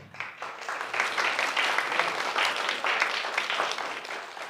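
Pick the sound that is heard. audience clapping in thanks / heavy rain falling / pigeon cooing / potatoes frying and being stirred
audience clapping in thanks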